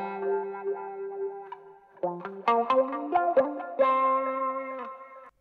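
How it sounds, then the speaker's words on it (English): Electric guitar plays a melodic solo with sustained notes and quick runs, the phrases trailing into echoing delay repeats. "in this guitar solo section here, I've got delays as the reverb"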